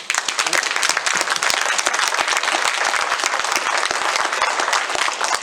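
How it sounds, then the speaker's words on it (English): An audience at a school board candidate forum gives the candidates a round of applause, dense steady clapping from many hands that fills the room continuously from start to finish. "Let's give all the candidates today a round of applause"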